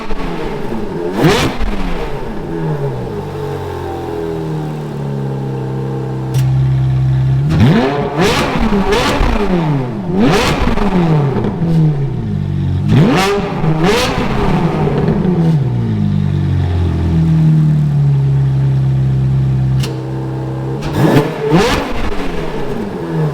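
A Ferrari engine fitted with a Forza Componenti exhaust valve controller revs hard several times, each rise climbing to a loud howl and dropping back to idle, close and alone.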